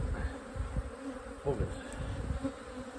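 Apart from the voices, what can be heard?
honey bees buzzing around an opened hive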